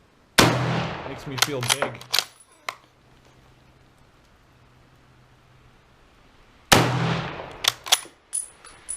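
A 1918-dated Rock Island 1903 rifle fires .30-06 rounds, with two sharp, loud shots several seconds apart, each followed by clanking bolt and metallic handling noises; someone speaks briefly between them.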